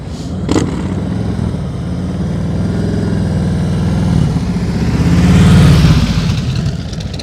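A motorcycle engine revs under throttle during slow-speed riding practice, its mid-pitched drone rising and swelling close by, then easing off.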